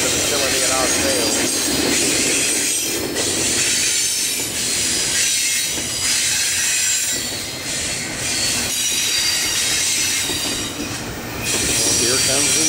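Norfolk Southern intermodal freight train led by SD60E and ES44DC locomotives rolls by at close range, loud steady rumble of wheels on rail with squeals and rhythmic clatter of passing cars, near Mableton.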